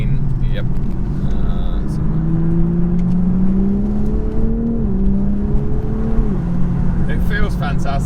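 A BMW Z4 M40i roadster in Sport Plus mode accelerates through a roundabout, its engine note rising in steady pitch with a shift partway through, under a constant road and cabin drone.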